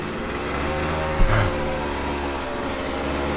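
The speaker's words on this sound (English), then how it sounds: "Aber die arbeitet weiter, hä? Da werden die Schrauben reingedreht." A machine screwing ground screws into the earth, a steady motorized drone with a brief louder clunk partway through, continuous and fairly close.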